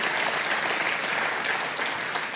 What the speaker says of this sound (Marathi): एकदा जोरदार टाळ्या व्हायला पाहिजेत महेश दादा आणि नटसम्राटसाठी